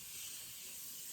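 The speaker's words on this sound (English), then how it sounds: "I got this Morphe Continuous Coconut Setting Spray" Morphe Continuous Coconut Setting Spray gives one sustained, close hiss of fine mist that lasts about a second, alone without talk.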